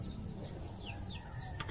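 Caged backyard chickens, some sickly, cluck and chirp faintly over a steady low outdoor rumble, a few short calls scattered throughout.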